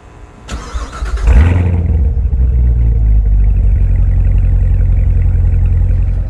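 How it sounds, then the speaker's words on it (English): A Corvette cold-starts close by: a short crank whirs, then the engine catches with a loud flare and settles into a steady, heavy idle rumble with no talking. "I'll do a little cold start for you guys."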